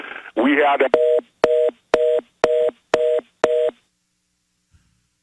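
Steady tones from a radio show's telephone line sound in six evenly spaced beeps after a brief burst of talk, then the line goes quiet.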